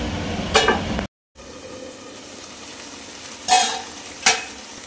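Ridge gourd curry is stirred in a pan over a sizzling base, with a few sharp scraping strokes against the pan standing out. A brief dropout in the middle breaks the sound.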